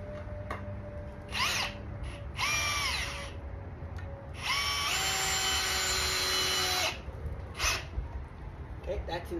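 A cordless drill whirs in several bursts, short ones then a longer sustained run, driving construction screws, with pauses between.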